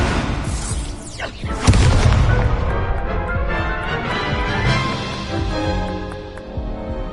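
A Confringo blasting spell in a Harry Potter video game goes off with a loud, deep boom that rolls into a long rumbling tail, preceded by a brief whooshing sweep.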